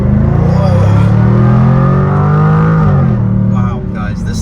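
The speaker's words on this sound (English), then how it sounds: "we'll step out onto this multiple lane highway and see a little acceleration run" A Jaguar F-Type R in second gear accelerates hard on a multi-lane highway, its engine giving a loud, rising growl that holds strong and then eases off, heard from inside the car.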